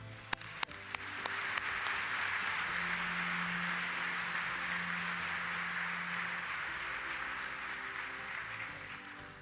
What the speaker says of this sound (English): Please join me in a round of applause for all our executive leadership partners.